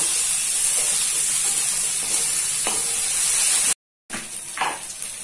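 Okra pieces stir-fried in a pan, with a steady loud sizzle and hiss under occasional scraping stirs. A short silent gap comes near the end before the frying resumes.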